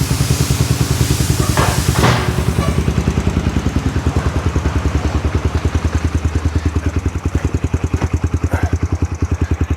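A Yamaha Raptor 125 ATV engine idling steadily, with a rapid even putter and mechanical clatter, close and loud throughout, a brief sharper burst near the start.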